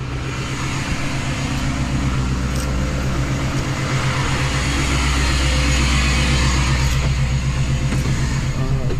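Snow plow truck idling and creeping forward inside a highway garage, a steady loud low engine rumble with diesel-like drone filling the enclosed space, no talk.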